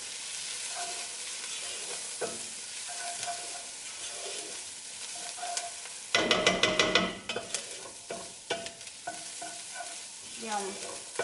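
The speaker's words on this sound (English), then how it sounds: "now we'll fry the spices off just for a minute or so" Spices for red lentil dhal frying in a hot pot, a steady soft sizzle with intermittent stirring scrapes and clatters, louder bursts of crackling midway as the pan is stirred.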